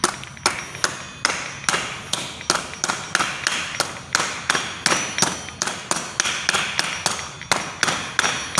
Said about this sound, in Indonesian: Kita lakukan pemukulan secara menyilang ya, agar masuknya ring gear ini pada differential carrier dapat seimbang gitu.